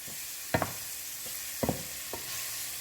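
Ground beef browning in its own grease in a stew pot, with a steady soft sizzle underneath two or three sharp scraping stirs of a utensil against the pot, no voices.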